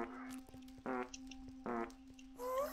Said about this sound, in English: I don't want to hear these fart sounds each and every time